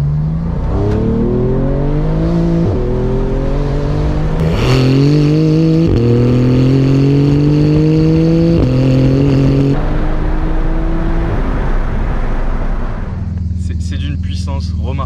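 A Porsche 991 GT2 RS accelerating hard, its engine roaring loud and close with rising pitch through several quick gear changes, then easing off toward the end.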